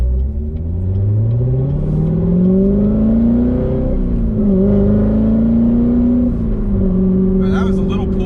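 A C7 Chevrolet Corvette in third gear pulls hard to about 4000 rpm, its deep engine drone rising steadily with a brief dip partway, loud and heard from inside the car.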